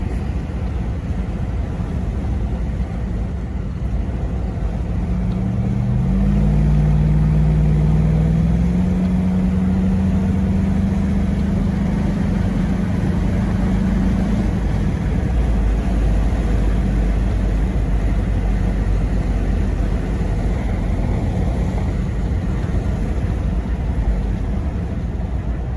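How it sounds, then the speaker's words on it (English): A 1987 Toyota FJ60 with a Vortec engine cruises on a freeway, producing a steady, loud drone of engine and road noise with a brief rise in engine tone partway through. "Here's a short little video driving down the road on the freeway."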